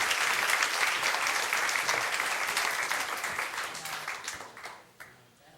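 An audience in a church applauds to welcome a guest speaker. The clapping is steady and dense, holds for several seconds, then thins out and fades near the end.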